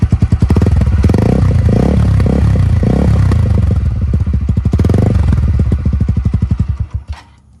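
Close, loud revving from a TVS Apache RTR 160 4V motorcycle fitted with a modified stock exhaust, several throttle blips rising and falling before the engine drops back to a chugging idle and fades near the end.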